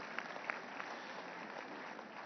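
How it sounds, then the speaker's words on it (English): Applause from a church congregation at a deliverance service. The clapping is faint and distant, a steady wash of many hands with a few sharper claps standing out, and no one speaks over it. "Shall we clap for wonderful Jesus Christ?"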